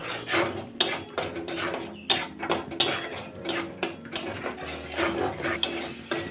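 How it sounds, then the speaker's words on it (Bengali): A metal spatula repeatedly scrapes and clanks against a pan while an onion-tomato masala with turmeric, salt and sugar is stir-fried for a broccoli paneer curry, the strokes coming in a rough steady rhythm, close and moderately quiet. "এইবার এটাকে আমি খানিকক্ষণ কষিয়ে নেব।"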